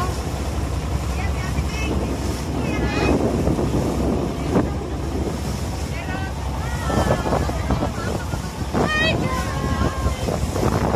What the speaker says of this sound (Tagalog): Mahangin na no